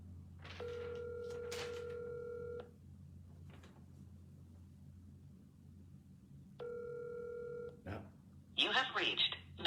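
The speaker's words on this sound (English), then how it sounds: "Hope I'm dialing the right number." A telephone line gives two long electronic ringing tones separated by a pause, followed by a quick burst of dialing beeps at the end, with a voice speaking faintly in between.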